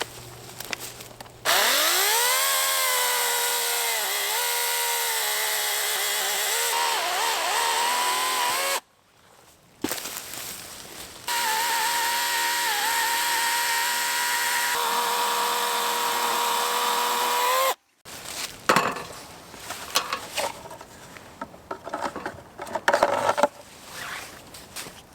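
A chainsaw with an Oregon chain, freshly filled with chain oil, cuts chunks of partly rotten wood: loud, close, sustained high-revving bursts separated by brief pauses, then rougher sputtering and idling at the end.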